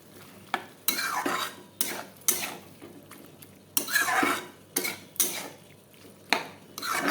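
Spoon scraping and stirring through jackfruit and potato masala in a cooking pot, a run of loud, repeated strokes with metallic clinks against the pot and a faint sizzle between them.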